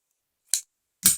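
Scissors cutting paper for a handmade mini album, two short crisp snips close by, separated by about half a second of silence.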